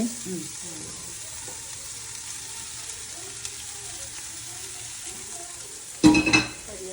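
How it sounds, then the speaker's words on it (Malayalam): Chopped green chillies and onions for a duck curry sizzle in a frying pan with a steady, fairly quiet hiss, then a sudden louder burst of crackling and stirring near the end. "നമ്മൾ അരിഞ്ഞ് വെച്ചിരിക്കുന്ന പച്ചമുളക് ഇട്ട് കൊടുക്കാം സവോളയും കൂടി ഇട്ട് കൊടുക്കും"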